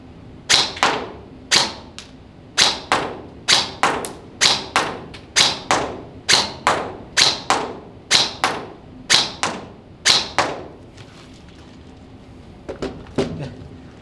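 A G&G SGR 556 airsoft rifle fires 0.2 g BB test shots, a series of about fifteen sharp, close pops in an irregular semi-auto rhythm, then a pause and two more fainter shots at the end.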